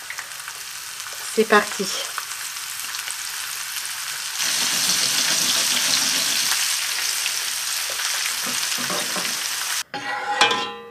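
Garnish roasting in a hot pan, a steady bright sizzle that swells loud about halfway through, with brief utensil clicks early on, one short spoken phrase, and clattering stirring at the very end.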